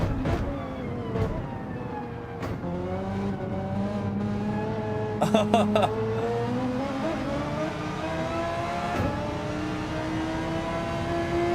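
A Mitsubishi Evo accelerating in Gran Turismo 7, its engine pitch climbing steadily through repeated gear changes, with other race cars droning nearby and a brief rattle of contact midway.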